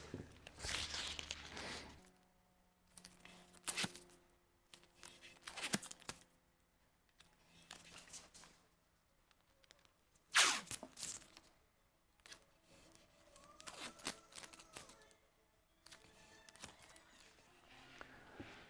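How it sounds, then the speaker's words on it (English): Masking tape is torn off a roll and pressed onto a patinated steel panel for a GR Research X-LS Encore speaker, giving sharp, close ripping bursts spaced irregularly over a quiet room hum. "So you get to watch me put on masking tape."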